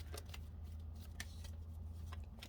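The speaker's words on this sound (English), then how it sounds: "let's get some shuffles in here." Tarot cards being shuffled by hand, a soft papery riffling in quick short bursts, close and fairly quiet over a low steady hum.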